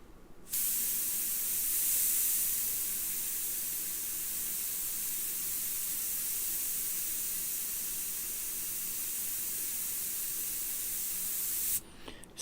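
Airbrush spraying in a long, steady hiss that runs close and alone for about eleven seconds, starting and stopping abruptly, with no talk over it.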